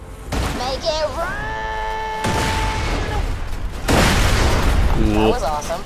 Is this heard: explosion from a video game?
yes